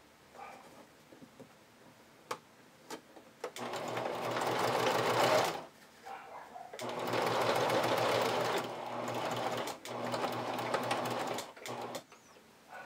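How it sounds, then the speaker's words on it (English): Straight-stitch topstitching on silk for a vintage-style bra: a sewing machine runs in two sustained close bursts separated by a short pause, with light clicks and handling before and between. "I'm going to use my straight stitch again, and I'm top stitching"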